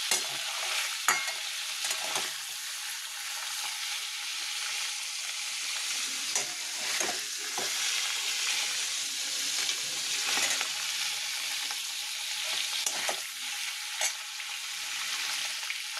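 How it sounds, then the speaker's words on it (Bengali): Paneer cubes shallow-frying lightly in oil in a kadai, a steady close sizzle with occasional soft stirring scrapes and pops throughout, no one speaking. "দেখো আমার পনিরটা হালকা ভাজা হয়ে গেছে"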